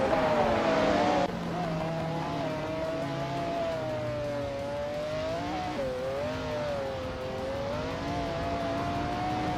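Engine of a 1991 Bugatti EB 110 SS race car in a racing video game, a steady, close whining drone that rises and dips slightly with throttle after a brief louder burst at the start, no speech over it.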